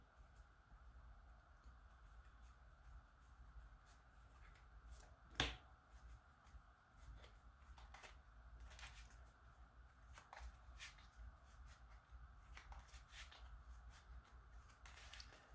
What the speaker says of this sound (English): Just showing that I am shuffling the deck to make it as random as I possibly can.